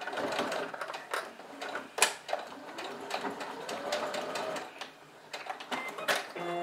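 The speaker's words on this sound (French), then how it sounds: "Donc c'est parti pour la couture." Domestic sewing machine stitching a seam through fabric for a small zippered pouch, a steady close whirring run broken by brief pauses and quick bursts as the needle starts and stops.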